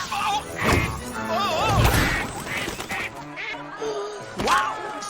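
A cartoon duck quacks a few times amid a chaotic animated movie scene from The Smurfs 2, mixed with voices, thuds and music in the busy soundtrack.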